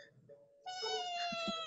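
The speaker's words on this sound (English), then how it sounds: "that's the family cat" A family cat meows, one drawn-out, tonal meow rising in strength and holding near and clear, preceded by a softer short call.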